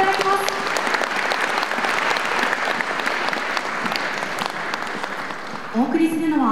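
An outdoor audience at a naval base open day applauds a navy band before its encore, continuous crowd clapping throughout, with a voice and a tonal sound entering at the very end.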